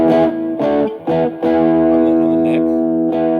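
A Gibson SG Modern played through distortion on the full neck humbucker rings out in loud, thick, saturated chords, a few choppy stabs followed by a long sustained ringing chord.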